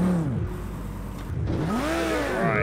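Race car engines in Project CARS 2 scream down a straight, several sweeping pitch rises and falls as cars pass and shift gears, loud and near over a steady engine drone, with no talking.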